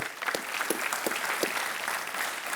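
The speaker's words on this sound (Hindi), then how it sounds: "इनका तालियों के साथ स्वागत किया जाए" Studio audience on a Hindi quiz show claps steadily, a close, even burst of applause with a few sharper accents, and no talk over it.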